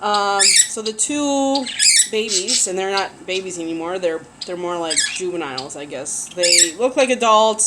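Pet parakeets and finches squawk and chirp in shrill bursts throughout, sitting close behind a person talking steadily over them.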